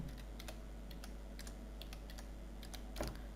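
Fingers type on a computer keyboard while entering an invoice in Excel XP, giving soft, irregular key clicks in small bursts over a low steady hum, with no one speaking.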